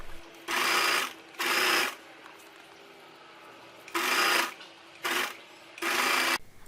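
Sewing machine stitches a seam in short bursts, five runs of rapid mechanical whirring separated by brief pauses, close and clear with no talking.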